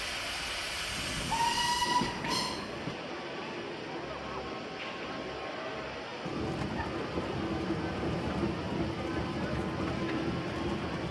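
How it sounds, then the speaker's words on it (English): Steam railway locomotive gives a sharp whistle blast and then a long hiss of steam, with a lower steady rush continuing behind, close and fairly loud. "one of our main attractions today, courtesy of the Appy Valley Railway, is Boston, the steam railway locomotive."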